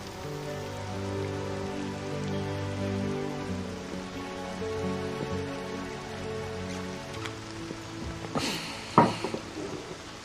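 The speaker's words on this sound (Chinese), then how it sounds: "也是下着大雨" Heavy rain falls as a soft, steady hiss beneath sustained music, with a few louder splashy bursts near the end.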